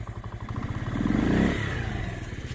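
A motorcycle engine idling with the choke fully on, a rapid throbbing putter close by that swells briefly in the middle as the revs rise, then settles back, with no talking.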